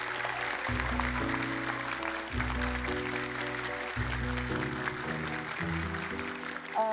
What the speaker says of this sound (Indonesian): tepuk tangan dong untuk Kak Nabila